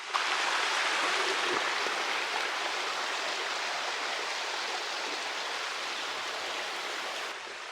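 Mountain creek water rushing down from about 12,000 feet near Lone Pine, California, among fir trees: a steady, close, full broadband roar of flowing water with no pauses, holding even throughout and no voices.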